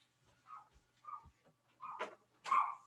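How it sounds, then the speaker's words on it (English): A dog barks over and over in a home, sending out four yips and barks that grow louder and sharper toward the end with quiet gaps between them. "If your dog is doing some excessive barking like that, something is wrong."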